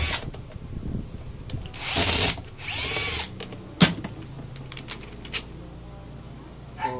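Power driver on a Bosch GSH 11 E 11 kg demolition hammer under repair, backing out torque screws: two sustained whirring bursts close up, followed by scattered clicks and knocks of parts being handled.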